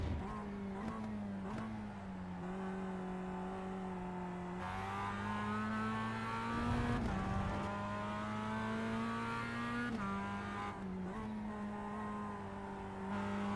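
A Mazda MX-5 race car laps the Phillip Island circuit, taking a corner in second gear. Its engine drones loudly and steadily from inside the cockpit, with pitch dipping and climbing as throttle and revs change.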